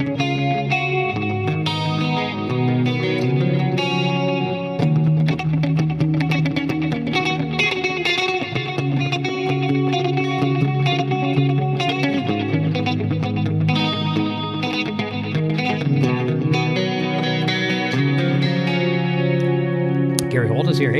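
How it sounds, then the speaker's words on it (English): A vintage Kramer Pacer Deluxe electric guitar is played through heavy delay and effects, swirling with echoes, chorus and distortion in a dense, continuous wash of sound during a jam. "Throw on some crazy delays and you get some really crazy stuff going on."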